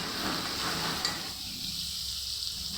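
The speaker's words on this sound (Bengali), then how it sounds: "এখন এগুলোকে সিদ্ধ করে তারপরে এটা ভেজে নিচ্ছি।" Boiled potato and chunks of raw jackfruit fry in a pan with a steady, close sizzle and hiss that eases a little after the first second, no voices present.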